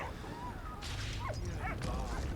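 Small yips and whimpering barks from a dog in the Valiant Hearts: The Great War game, a few short bursts over a steady low background hum.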